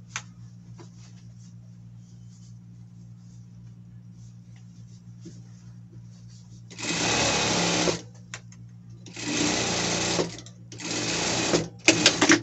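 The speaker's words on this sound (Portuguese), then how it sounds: "E passa a costura." A sewing machine stitches a seam on a costume in three bursts of rapid mechanical whirring, each about one to two seconds long and loud and close, after a quiet stretch of faint handling noise.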